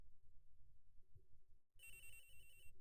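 A phone rings in a video game, a bright electronic ringtone cutting in partway through after a quiet, low rumbling stretch and continuing loudly to the end.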